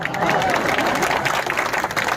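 An audience at a poetry gathering claps in a brief, dense burst of steady applause, close and fairly loud, with nothing else standing out.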